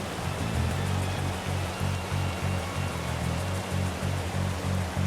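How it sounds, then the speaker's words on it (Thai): A flowing stream in Sai Thong National Park, Thailand: a steady broadband rush of water, close and even, with a low pulsing hum running underneath. "ลำธารนี้ไหลไปไหนครับ"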